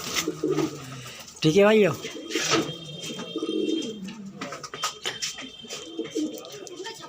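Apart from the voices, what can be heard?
pigeons cooing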